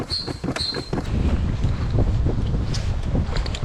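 Steady wind buffeting the microphone on open water aboard a boat, a continuous low roar with faint creaks, and no one speaking.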